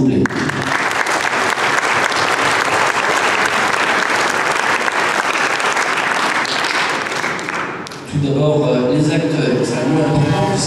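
Audience in a hall at a tournament prize-giving ceremony applauding the partners, sustained loud clapping that cuts off around eight seconds, followed by music.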